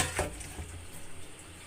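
Water is tipped out of a bowl after washing fish scales off a kalibaus fish in a home kitchen, with a short splash near the start and then a softer, steady run of water.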